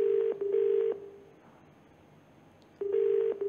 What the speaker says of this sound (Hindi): तो फोन मिलाने की कोशिश कर रहे हैं